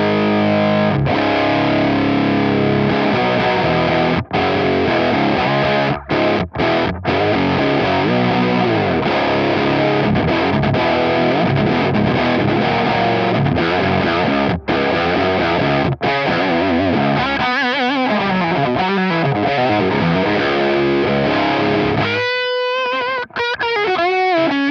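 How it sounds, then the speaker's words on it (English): An electric guitar through a Walrus Audio Iron Horse V2 distortion pedal into a V40 amp plays loud, thick chords and riffs continuously, ending with a few ringing, stuttering notes. "It's an American sounding distortion."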